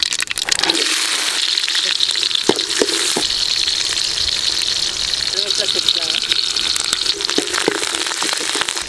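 Mustard seeds, small shallots and dried red chillies fry in hot oil as a tempering for a drumstick-leaf kuzhambu, giving a steady, close sizzle with scattered crackles and pops throughout.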